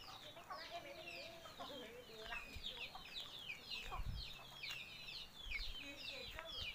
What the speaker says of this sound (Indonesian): Ayam berbulu abu-abu, kelau bojog, kayak bulu kera